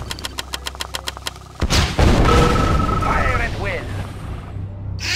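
Booming artillery fire from the video game Red Alert 2, a heavy blast following a quick series of regular rhythmic thuds, loud and close, with unit voice responses heard.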